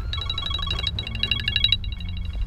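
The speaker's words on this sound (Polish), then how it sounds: "Ktoś ci dzwoni." A mobile phone rings with a repeating electronic tone in short bursts, close by, over a low background rumble, as if outdoors near a forest cabin.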